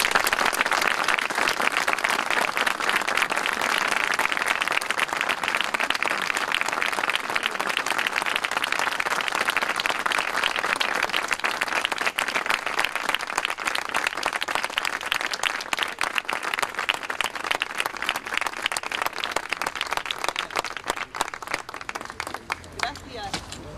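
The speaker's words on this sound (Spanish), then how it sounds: "Un aplauso para él." A crowd at a 76th-anniversary tribute to the International Brigades applauds an aging volunteer, a loud, continuous wash of clapping that carries on for over twenty seconds before thinning slightly at the end.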